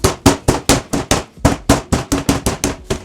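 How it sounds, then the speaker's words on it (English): Raw chicken breast under plastic wrap is pounded flat with about a dozen sharp, close, loud thuds in a fairly steady rhythm, with a short gap partway through. "we're gonna start by taking some plastic wrap and we're gonna beat this breast up"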